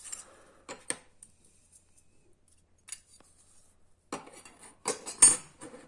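Stainless steel pieces of a Piran Smol folding solid-fuel camping stove clink and tap during assembly, in a few sparse, close metallic clicks separated by quiet pauses, with a denser cluster of rattles near the end.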